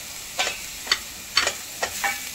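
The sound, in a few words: grated bottle gourd sizzling and softening in ghee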